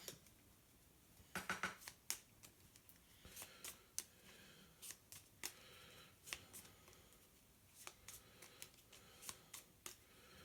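Playing cards in the Gloomhaven board game, Jaws of the Lion edition, are handled and shuffled into a deck, giving quiet, scattered flicks and riffling snaps in a soft room.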